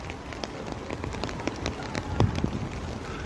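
Rain patters on an umbrella outdoors in Lublin, a continuous close crackle of drops with scattered sharper taps, and a faint voice in the background.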